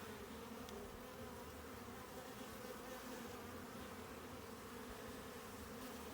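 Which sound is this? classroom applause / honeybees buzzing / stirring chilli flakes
honeybees buzzing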